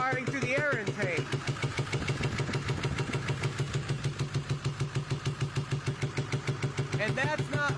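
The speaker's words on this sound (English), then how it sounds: "Sounds like it's backfiring through the air intake." A 2000 Ford F-350 with the 7.3 engine idles with a steady, rapid chugging pulse and a recurring popping as it backfires through the air intake, close and loud, with someone talking over the start and end.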